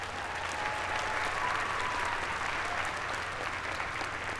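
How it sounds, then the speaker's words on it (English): Audience applause fills a dual enrollment recognition ceremony, a steady, dense wash of clapping from a large crowd that holds at an even level for several seconds without talk over it. "Maryland Lieutenant Governor, Aruna Miller, let's give her a round of applause again."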